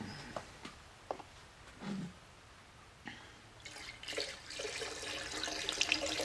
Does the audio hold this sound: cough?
no